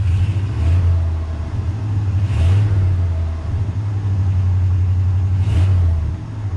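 A 1968 Ford F100 engine revs loudly and repeatedly while the transmission fails to engage. It rises and falls in three or four surges over a steady low rumble, close by with no talking.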